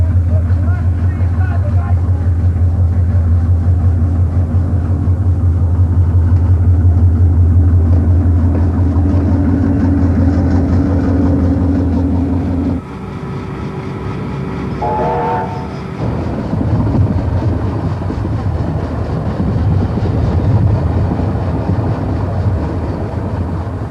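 The luxurious eastbound Indian Pacific train crosses in the early morning, a loud sustained diesel rumble and rolling wagons, followed by a brief horn-like tone and continuing rail noise.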